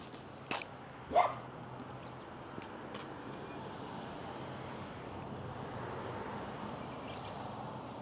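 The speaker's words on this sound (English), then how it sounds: "The dog's not so happy to see me" A dog barks at a house in the old gold town of Maldon, giving two short barks near the start and then going quiet over steady outdoor wind and distant road noise.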